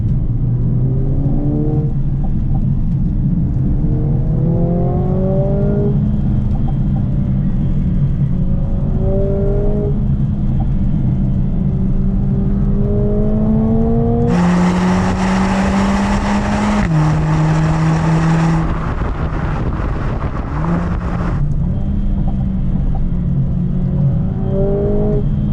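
A 2020 Mercedes-AMG A 45 S engine revs repeatedly toward its high limit from inside the car, rising whines climbing and dropping in several pulls, with turbo whistle and a sharp peak near the redline.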